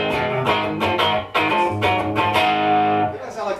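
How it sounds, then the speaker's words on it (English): Distorted electric rhythm guitar played through an amp modeler emulating a small tube amp, heard at a guitar clinic; loud chugging chords with rhythmic accents, close and dense, running continuously for a few seconds. "this is a rhythm guitar sound that I had."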